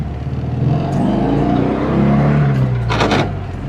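A 1966 VW Fastback's air-cooled engine and exhaust run close by, a low droning rumble rising in pitch as it revs, with a brief scraping burst near the end.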